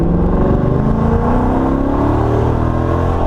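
A Procharger-supercharged Coyote V8 in a Ford Mustang GT revs loud and close, its deep, rising engine roar continuous throughout with no talking.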